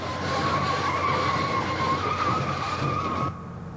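A semi truck rig skids after a car slams into it, a loud sustained tire squeal with a tonal screech that holds for about three seconds and then cuts off abruptly into a quieter rumble.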